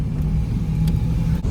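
A 1987 Pontiac Firebird, long left sitting, idles and rolls slowly around a shop, its steady low engine rumble constant and close with no voices.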